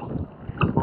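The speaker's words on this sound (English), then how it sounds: "It's a little windy" Gusty wind buffets the microphone in low rumbling bursts on Flamenco Beach, Puerto Rico, with a faint watery wash beneath, strongest toward the end.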